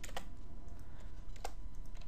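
Sparse keystrokes on a computer keyboard, a few separate sharp clicks spread across a couple of seconds over a steady low hum, with no talking.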